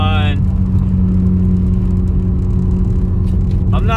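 A Subaru WRX with the FA20DIT turbo engine, running with a cylinder misfire fault, drones at a steady loud rumble with strong low harmonics, close and continuous, while a brief voice-like tone cuts in at the start and end.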